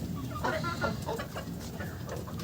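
Hens cluck on a poultry farm in a run of short, close calls over a steady background hum of the barn.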